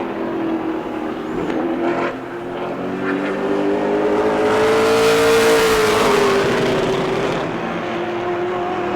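A Pro Late Model race car on a qualifying lap at New Smyrna, its engine a steady, loud droning roar that rises in pitch and swells toward the middle of the lap, then eases slightly.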